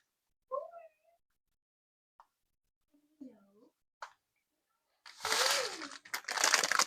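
A cat gives two short, quiet meows a few seconds apart in near silence, followed by louder rustling and crinkling noise.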